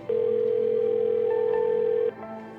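A steady electronic phone ringing tone from an unanswered call hums for about two seconds, then cuts off, leaving a faint background murmur.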